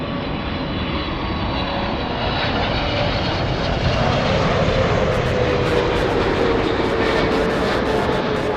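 An Emirates airliner at LAX airport gives a loud, sustained jet engine roar that swells slightly and holds steady, with no talk over it.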